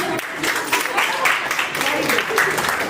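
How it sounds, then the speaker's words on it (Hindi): An audience claps steadily throughout, a dense wash of applause with voices mixed in underneath. "तालियां"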